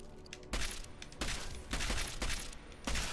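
Gunfire with EMP rounds in Deus Ex: Mankind Divided, a rapid series of loud, sharp shots in several bursts over a quiet game background.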